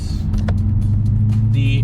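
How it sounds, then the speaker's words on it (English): A Lexus IS F V8 with about 200,000 miles idles in a steady low rumble close by, with faint, brief bits of voice over it. "Number 2, the V8 under the hood."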